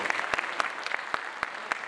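Scattered applause from a concert audience, clearly separate claps landing in an uneven rhythm at moderate volume, short and unaccompanied by speech.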